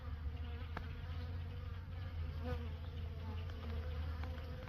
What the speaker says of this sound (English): Lots of bees flying for only being 45 degrees.